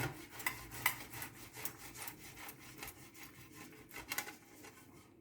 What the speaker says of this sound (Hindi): आलूओं को हम कद्दूकस कर लेंगे